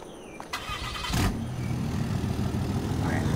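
A Chevy pickup truck's Vortec engine in Farming Simulator 22 starts with a sharp burst and then settles into a steady, loud, close idle rumble that carries on alone.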